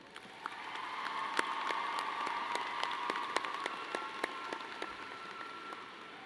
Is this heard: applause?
yes